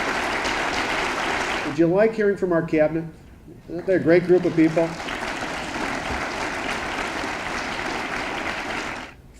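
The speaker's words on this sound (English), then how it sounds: "So if you please give her a warm round of applause, we really appreciate it." An audience at a small business summit breaks into applause that comes in around the middle, while a speaker talks through much of it.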